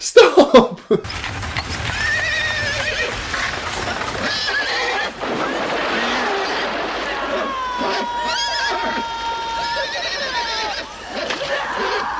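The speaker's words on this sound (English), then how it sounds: "the horse is getting faster and the carriage is getting faster" A horse pulling a carriage in the film The Woman in Black neighs and whinnies repeatedly while hooves clip-clop faster underneath, mixed with dramatic noise and voices in a dense, loud scene.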